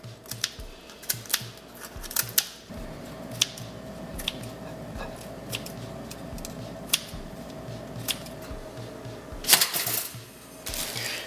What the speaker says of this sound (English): I'm gonna take this bacon and some kitchen scissors and cut it up into small pieces